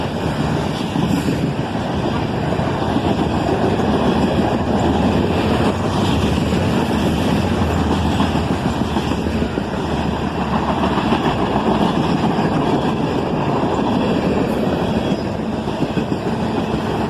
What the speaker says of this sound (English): an ET44AH and an SD43 rebuild, middle of the train running backwards